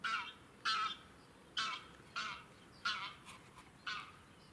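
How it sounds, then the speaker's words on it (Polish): Geese fly in along the Vistula riverbank near Grabowiec, giving a series of about seven separate honks at a steady, unhurried pace, faint and distant over a quiet background. "Słyszycie? Przylatujące gęsi."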